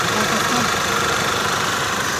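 A Mercedes Sprinter van's engine runs steadily up close, a loud, even diesel-like drone with a smooth, unbroken rumble and no speech over it.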